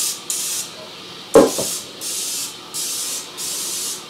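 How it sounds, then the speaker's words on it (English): Spray oil from a can hisses in several short bursts into a 13 by 9 baking pan, with a clunk from the pan partway through. "you gotta spray it down. So it's a little spray oil here."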